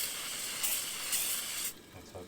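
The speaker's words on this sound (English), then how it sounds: "A little bit of spray oil, so they reckon." A short hissing spray of cooking oil in a few quick bursts, close and steady, then it cuts off into quieter room sound.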